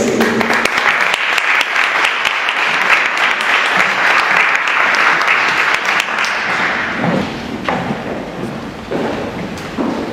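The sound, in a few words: audience applause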